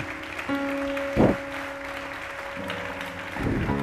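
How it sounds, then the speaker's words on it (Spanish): Audience applause at the closing ceremony of the Ingenia event, moderate and fairly even, with sustained tones and a brief voice-like burst running through it. "este aplauso por lo menos de mi parte es, es para vosotros"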